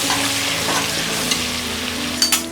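Sliced onions sizzle steadily in a pan over a medium flame, a constant close frying hiss with a couple of brief spoon scrapes near the end.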